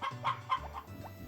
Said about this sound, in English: So we're going into the hen house now.